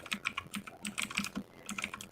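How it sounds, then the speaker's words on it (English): Typing on a computer keyboard: rapid, irregular clicking keystrokes close by, continuing steadily for about two seconds with no voices. "Who's typing up a book on their keyboard?"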